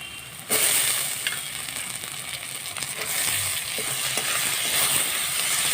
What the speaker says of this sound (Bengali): এবার এর মধ্যে আমি দিয়ে দিচ্ছি কুচি করে রাখা টমেটো